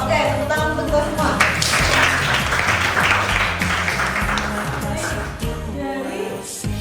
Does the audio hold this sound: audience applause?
yes